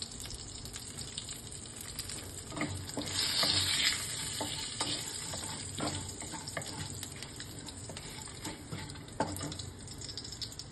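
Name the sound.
whole garam masala, cardamom and panch phoron frying in oil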